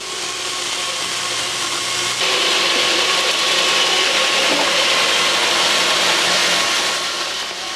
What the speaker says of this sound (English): It can cut a whole stack of wood all at one time.